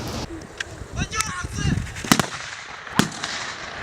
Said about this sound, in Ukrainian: Гучні постріли рушниці відлунням віддають у горах